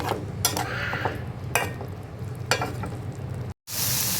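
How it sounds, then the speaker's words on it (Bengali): Dried fish frying with onion and garlic in a pan gives a steady close sizzle, with a few metallic scrapes of the spatula against the pan. The sound briefly cuts out near the end and then resumes. "এখন আমি আবার শুটকি দিয়ে দিচ্ছি"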